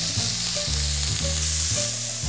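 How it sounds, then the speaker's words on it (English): Steady sizzling and frying of diced garlic and rice in a pan, with repeated scraping stirs of a spatula every half second or so, close and continuous. "Let's stir fry the whole thing."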